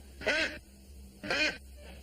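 A duck on a table quacks twice, loud and close, with about a second of quiet between the calls over a low steady hum.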